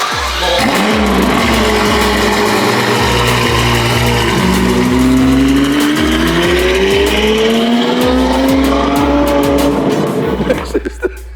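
A Ferrari 812 GTS with a loud exhaust roars close by while driven in first gear, its revs rising and falling steadily with sharp repeated pops and crackles, and excited voices call out over it.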